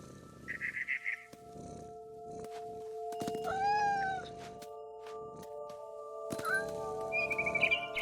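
A cat in the video game What Remains of Edith Finch lets out one clear, drawn-out meow, with low purring earlier and brief high bird chirps before and after, all fairly faint over a quiet hum.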